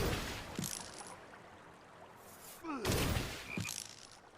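Layered video game enemy shot built from a spellcasting sample, a fruit squelch and a spinning coin on a table, heard as a few short swishing, squelching bursts with a sharper burst near the end, fairly quiet and without speech.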